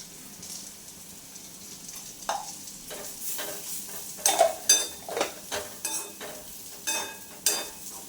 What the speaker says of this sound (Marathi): एक दोन मिनटं परतून घेणार आहे